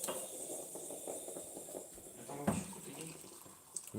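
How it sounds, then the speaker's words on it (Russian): Coffee pours into a cup with a soft, trickling liquid sound, faint and close, amid quiet room noise. "я вот кофеек себе наливаю."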